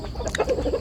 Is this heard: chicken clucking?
yes